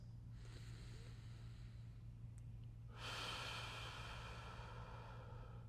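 Slow, soft breathing during a self-massage of the back of the neck. A faint breath drifts in over low steady hum, then a longer, louder exhale rises and holds near the end.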